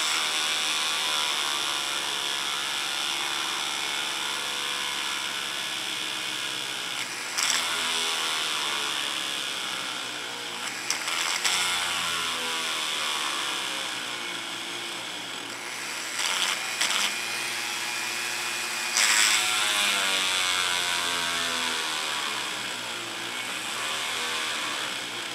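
A small drill runs at slow speed while working on a Dinky Avro die-cast model during restoration, giving a steady, close whirring drone that continues for the whole span with brief louder bumps and no talking.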